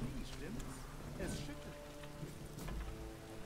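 Rain falls in the video game The Witcher 3, a soft, steady patter and hiss heard faintly beneath a voice talking throughout.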